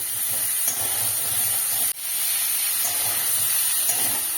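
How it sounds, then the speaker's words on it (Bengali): Cauliflower frying in oil in a pan over a high gas flame gives a loud, continuous hiss and spitting sizzle, broken only by one brief dip partway through, with no talking. "ওই জন্য আমি হাই ফ্লেমে ফুলকপিটা ভেজে নেব।"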